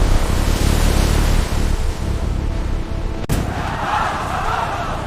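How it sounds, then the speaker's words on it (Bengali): A stormy sea at night, loud continuous roar of crashing waves and gusting wind, with a sharp crack partway through after which the surf continues slightly quieter. "রাতের অন্ধকারে উত্তাল সমুদ্র, ভয়ঙ্কর ঝড় বইছে।"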